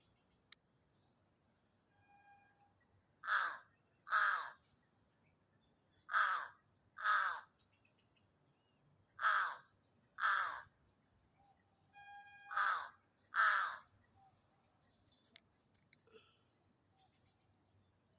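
Black crows caw near houses in several loud, harsh calls that come in pairs and spaced bursts, with faint chirps and quiet background in between.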